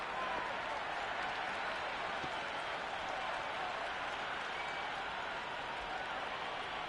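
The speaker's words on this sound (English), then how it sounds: "The crowd love that one." A stadium crowd at a T20 cricket match between India and South Africa applauds a boundary four, a dense, even roar of clapping and cheering that holds steady throughout.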